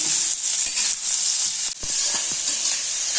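Chopped onions frying in oil and being stirred in a pan for chicken roast, a loud, steady close sizzle broken by several sharp scraping strokes of the spoon.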